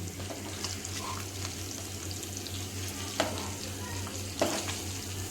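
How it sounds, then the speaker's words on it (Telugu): Fish pieces fry in oil in a pan over a low flame, giving a soft, steady sizzle with a faint, even crackle and a few brief louder spits, close by with no talking. "లో ఫ్లేమ్లోనే ఫ్రై చేసుకుంటున్నాము"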